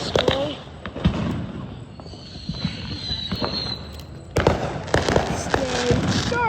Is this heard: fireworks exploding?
yes